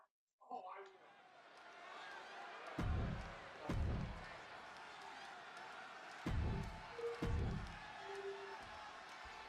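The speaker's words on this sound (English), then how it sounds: "just listen to this crowd here in Chicago" Arena crowd noise in the WWE 2K26 wrestling game at a Chicago show, a steady roar that swells into four loud bursts of cheering, with a commentator talking over it.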